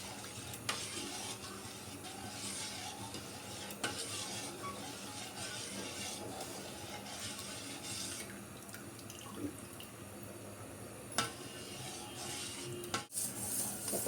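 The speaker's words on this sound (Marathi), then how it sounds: "आपलं पाकाला उकळी आलेली आहे" Sugar syrup for khoa gulab jamun boils in a pan with a steady, even bubbling hiss and a few soft clinks, with no speech.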